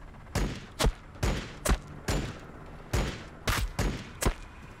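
Gunfire in the Warhammer 40,000: Battlesector video game: about nine sharp, loud shots in uneven bursts, some paired closely, each cracking out over a low rumbling battle backdrop.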